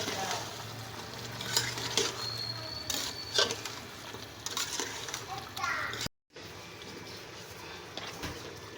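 Meat frying with spices in a pan, a steady close sizzle broken by scraping stirs and clinks, with children's voices faintly in the background and a brief cut of silence near the end.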